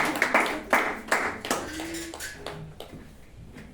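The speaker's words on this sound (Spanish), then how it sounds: "Vamos a darle un fuerte aplauso al Rey." Congregation applause at a church service: a burst of clapping with sharp hand claps that thins and fades out over a few seconds, fairly close and moderately loud.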